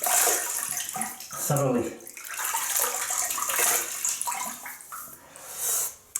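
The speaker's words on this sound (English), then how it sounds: "So what we're going to do, we're going to wet the face." Tap water runs and splashes loudly as the face is wetted for shaving, a continuous rushing flow with a brief spoken word over it.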